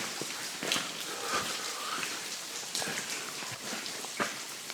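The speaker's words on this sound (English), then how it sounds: "I think it's actually just called cave drops, water drips or something." Steady patter of water dripping inside a cave, many small drops falling irregularly and close by, like a wet rain-like shower with no voices.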